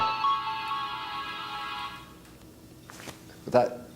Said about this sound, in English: That's your cell phone.